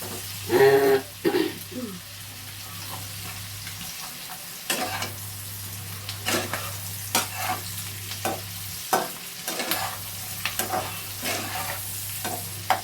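Chicken with green peas frying in a wok while being stirred: a steady sizzle with repeated scraping strokes of a spatula against the pan, and a low steady hum running underneath for most of the time.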